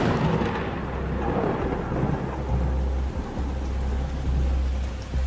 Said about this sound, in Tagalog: kulog.